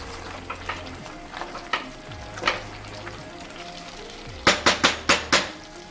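Nigerian porridge yam is stirred and cooked in a pot, with a soft simmer underneath, scattered scraping, and a quick run of five sharp spoon taps on the pot rim at the end.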